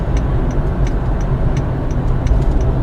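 A 2015 Honda Fit's turn signal ticks in an even, steady rhythm of about three clicks per second over a loud, rumbling cabin and road noise.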